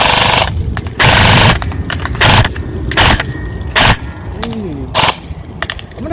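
A Beretta ARX 160 Elite airsoft rifle by Elite Force/Umarex fires full-auto in several loud, close bursts, each a rapid mechanical rattle separated by short pauses and faint handling sounds.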